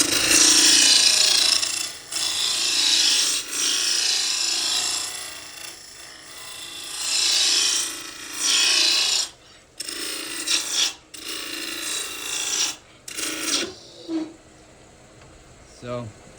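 A pepper mill blank spins on a wood lathe as a spindle roughing gouge rasps against it in a series of bursts and pauses, a close, harsh scraping that fades out near the end.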